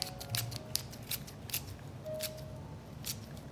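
Scissors snipping food during cooking for a saffron cream sauce with tortellini, crisp, close cuts repeated in an uneven rhythm about every half second over quiet kitchen background.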